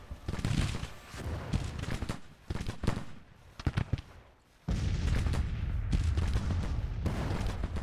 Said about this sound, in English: Hayes, go start shooting that artillery.